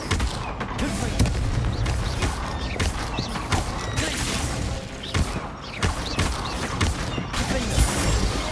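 Confringo fire spell cast repeatedly in Hogwarts Legacy on a practice dummy, giving loud, dense bursts and booming impacts that recur across the clip amid mechanical game noise.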